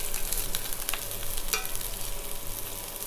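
Thinly sliced large onion frying in hot oil in a kadai, a steady dense sizzle with faint stirring scrapes, close and continuous throughout with no voices.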